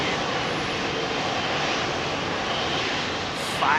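Airliner jet engines run up to takeoff power at Heathrow on a breezy evening, a loud, steady broadband roar that holds throughout at close range, with a brief extra rush near the end.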